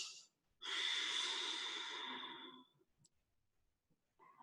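A single long, breathy ujjayi exhale during a yoga session, close and steady for about two seconds, followed by quiet with faint soft rustles.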